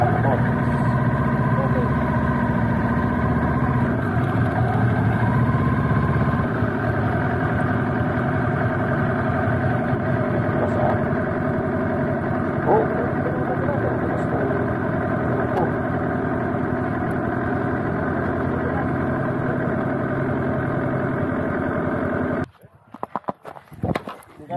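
Several Kawasaki motorcycles, Z900 and Z400 models, idle together at a snowy spot, a steady low engine hum running evenly with voices talking over it before cutting off abruptly near the end.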